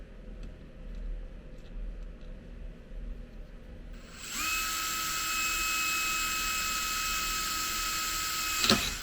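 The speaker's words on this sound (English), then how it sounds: "I've just drilled these 4 little holes in it, and that'll just stop that crack from traveling." Small drill boring little holes into a cracked part, steady high-pitched whine starting midway after quiet faint clicks, close and sustained, no talk.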